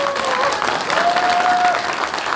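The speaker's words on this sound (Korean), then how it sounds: "우리 의원님한테 큰 박수 한번 쳐주십시오" A crowd at a football association president's inauguration and football night applauds for a council member, a brief dense burst of clapping with a faint voice or tone rising over it.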